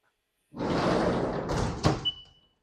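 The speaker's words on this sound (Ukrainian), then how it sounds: "Але для того, щоб включити обороти, потрібно закрити двері." The sliding door of a Haas VF3 CNC milling machine is rolled shut with a rumbling slide that ends in a firm thunk and a brief metallic ring, close by in a quiet workshop.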